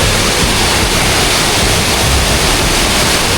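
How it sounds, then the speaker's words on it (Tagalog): Heavy water pouring and dripping steadily after rain, a dense continuous rush that fills the clip loudly and close, with no talk over it. "Tingnan nyo po, ang lakas po ng tulo oh"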